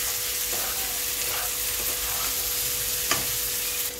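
Marinated chicken frying in spiced masala gives a constant dense sizzle close by, broken by a few soft stirring scrapes and one sharper clack near the end.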